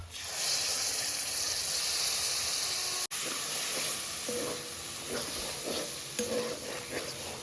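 Steady, loud sizzling of cumin paste and whole green chillies frying in a pan for a paneer and potato curry with capsicum, with a continuous hiss and a few stirring scrapes near the end.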